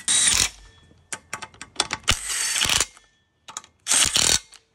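Ratchet wrench loosening the bolts of a torque converter on a go kart, with three loud bursts of rapid clicking separated by short gaps and scattered single clicks between, close up with no talk.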